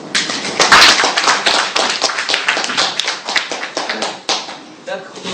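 Steady applause for school debate teams at the close of a debate, a roomful of hands clapping loudly and continuously before tapering off slightly at the end, with a voice speaking over it.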